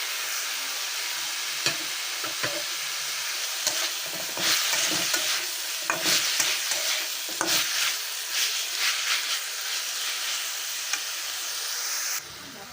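Chicken pieces with chopped green chillies sizzle and fry in a pan for chicken rolls, a steady hiss with repeated stirring scrapes and clinks throughout, fairly close, with no talk.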